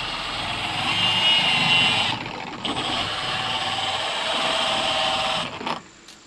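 A Griot's Boss dual-action polisher spreads ceramic coating at reduced speed, giving a steady broadband whir with brief dips in intensity and a drop-off as it winds down at the end.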